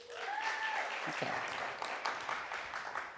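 An audience at a university talk breaks into applause, a dense patter of clapping that swells and holds steady after a brief burst of voices.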